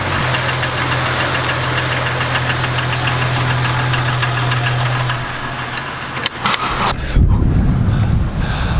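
Jeep engine running steadily with a low droning hum for about five seconds, then the tone drops away, a few sharp knocks sound, and a rougher, louder rumble with wind buffeting takes over.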